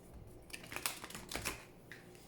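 Oracle cards being shuffled by hand, a soft flurry of papery riffles and flicks with a few sharper snaps, quiet and close, no voices.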